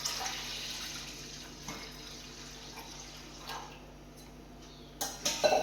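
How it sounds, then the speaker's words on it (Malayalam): Water is poured into milk in a pan for semiya payasam, a faint trickle that runs through the quiet scene and then gives way to a few louder splashes near the end. "കട്ടി കുറയ്ക്കാൻ വേണ്ടി ഞാൻ കുറച്ച് വെള്ളവും മിക്സ് ചെയ്യുന്നുണ്ട്."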